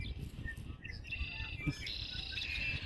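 Birds sing beside a small pond in spring with bright, high chirps and sustained whistled notes over a steady low outdoor rumble, and a few sharper calls cut through midway.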